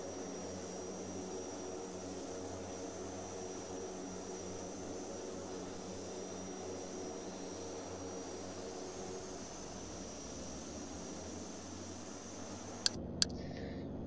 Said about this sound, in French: Ok, c'est parti, start moteur droit.